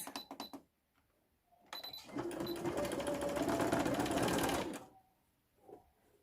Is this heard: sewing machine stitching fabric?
yes